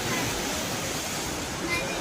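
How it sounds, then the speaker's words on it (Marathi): Sea waves surging against the shore at Marine Drive in Mumbai, a steady, loud, broadband wash of surf that fills the whole stretch without clear breaks between crashes. "कशा प्रकारे लाटा इथे तटाला येऊन धडकत आहेत"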